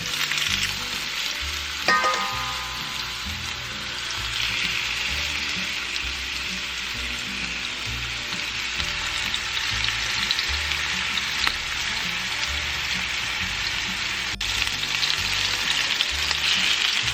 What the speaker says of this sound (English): We are going to place our meat in here. And we are going to sear them until they have a nice golden color in the bottom.